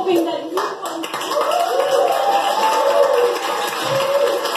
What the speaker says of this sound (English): the applause breaks in as this woman is beginning to tear up